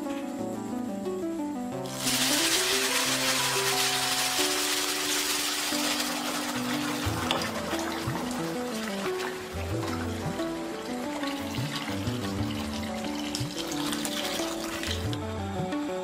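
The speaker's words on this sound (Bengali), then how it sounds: "পরিমাণ মতো পানি দিব, অর্থাৎ 12 কাপ পানি দিয়ে দিব।" Hot water poured into a pot of rice and mung lentils for bhuna khichuri, a loud steady splashing pour rushing in after a quiet start and lasting about thirteen seconds, over faint kitchen noise and without talk.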